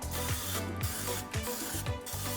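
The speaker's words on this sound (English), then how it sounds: "go grab your muffin tray, and we're gonna spray it with a little bit of oil" Oil sprayed from a can onto a muffin tray in a series of short hissing bursts, about five in quick rhythm, close and fairly quiet with no voices.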